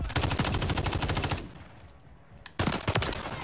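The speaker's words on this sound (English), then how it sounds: "why is this thing firing so fast? It's a burst." Renetti pistol in burst-fire mode in the Call of Duty MW3 beta on a Favela Hardpoint map: rapid, loud bursts of shots, a pause, then another fast burst.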